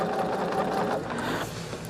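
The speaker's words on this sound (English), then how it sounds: "I'm trying to sew the front at least at 1/4, because I am sewing in that seam line" A sewing machine stitches binding onto a quilt, running in a steady, continuous close-up whir for the whole stretch with no talking.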